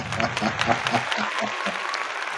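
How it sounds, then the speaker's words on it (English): Brief burst of applause from a small crowd, clapping densely for a couple of seconds. "Let's give him a round of applause."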